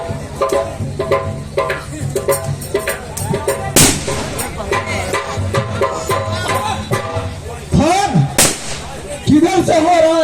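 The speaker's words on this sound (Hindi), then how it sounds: "किधर से हो रहा है फायर?" Gunfire in a Hindi drama scene, sharp shots in rapid bursts and a few heavy cracks, loud and close, mixed with shouting voices and other noise.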